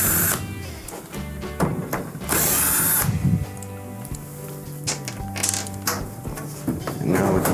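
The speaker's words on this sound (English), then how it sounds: "there's two Phillips screws that we have to remove now" Phillips screws are backed out of the lid of a Fisher & Paykel clothes dryer, giving close ratcheting clicks and short grinding bursts with small metallic knocks between them, with no talk.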